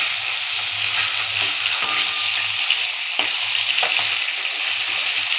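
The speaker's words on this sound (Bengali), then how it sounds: "এই দেখো বন্ধুরা, মাছটা ভাজা বসিয়ে দিয়েছি।" Fish frying in a pan, a loud, steady hiss of hot oil running throughout with a few faint knocks and clinks, no talking.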